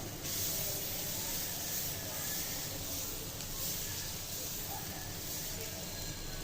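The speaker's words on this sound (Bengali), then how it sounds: "এটা এখন চাপটি ভাজবো।" Chapti flatbread frying in a pan gives a steady, close hiss and sizzle that runs unbroken throughout, with no clear talk over it.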